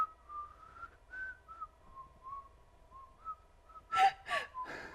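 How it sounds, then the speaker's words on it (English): Someone whistles a wavering, breathy tune in short notes, followed by a few sharp gasping breaths. "Did you know I can whistle?"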